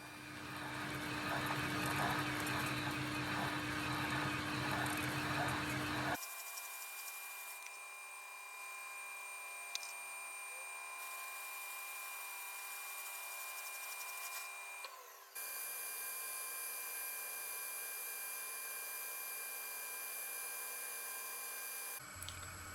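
A machine tool grinds loudly through metal as a 29mm drill and then a boring bar cut a hole, settling into a steady high whine of cutting that continues with a brief break partway.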